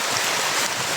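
Steady rain hisses down outdoors near a mountain, an even, dense wash of noise with no breaks.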